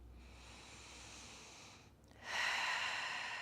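Slow, deep breathing during a yoga pose: a long soft exhale, then a brief pause and a louder, breathy inhale rushing in close to the mic.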